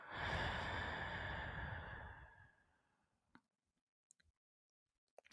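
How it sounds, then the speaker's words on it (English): A long, deep meditative exhale, loud and breathy for about three seconds and then fading, followed by quiet with a few faint ticks and small breath sounds. "Breathe in. Breathe out."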